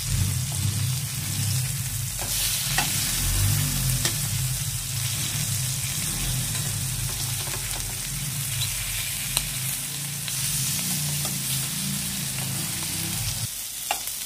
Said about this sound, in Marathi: आता हे मी परतवत आहे